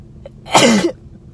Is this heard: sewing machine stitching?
no